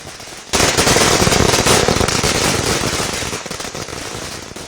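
Firecrackers set off by DMK supporters celebrating a Supreme Court ruling, a sudden dense burst of rapid crackling explosions that starts abruptly and keeps rattling loudly throughout.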